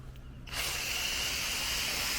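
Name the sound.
spraying foaming condenser coil cleaner from spray nozzle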